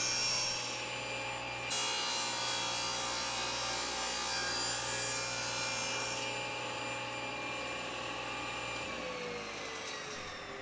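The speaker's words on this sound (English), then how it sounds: "I'll move the saw blade down to 45 degrees and I'll cut the corners off to the correct distance" A power saw with its blade tilted to 45 degrees cuts the corners off a silver maple log for a prop hammer, a loud continuous whining rasp that holds steady for about nine seconds and then winds down.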